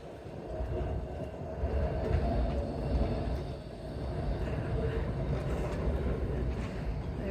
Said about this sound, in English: Oh, look, here's the tram. Can you hear it?